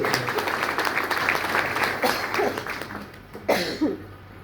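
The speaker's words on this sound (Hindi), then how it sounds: "एक बार दिल से जोरदार तालियां उनके लिए।" A seated audience gives a round of applause for a guest speaker at a lifestyle product event, moderate clapping with coughs and scattered voices, fading out near the end.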